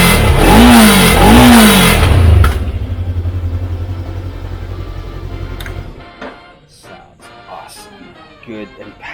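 Brixx Venturi 500 motorcycle engine, loud and close, with a couple of sharp throttle blips and then a rougher, steadier running note that quietens toward the end alongside scattered clicks.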